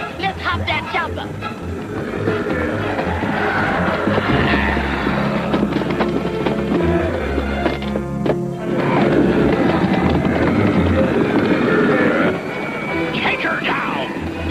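A cartoon helicopter whirs and chops steadily for several seconds, its rotor rhythm sometimes sputtering, mixed with animated sound effects and character voices.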